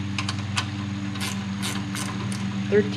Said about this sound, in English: Bring out the whole wrench set and go from there, huh?